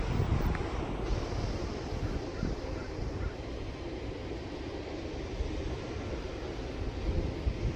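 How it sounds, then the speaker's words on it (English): Pacific Ocean surf rolling onto the shore beside a golf course green, a steady broadband roar with gusty wind noise on the microphone, continuous and fairly loud without clear individual breaks. "You get these waves crashing. Just hearing kind of the roar of the ocean while you're putting out."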